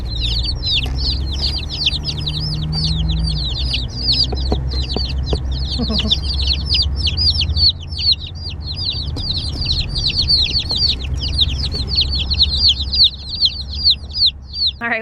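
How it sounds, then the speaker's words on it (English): Baby chicks at a local farm store give a dense, continuous chorus of high, rapid peeping, loud and close, over a low indoor hum and occasional rustling. "we just got the baby chicks and we're at our local farm store"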